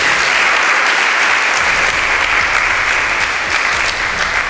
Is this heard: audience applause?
yes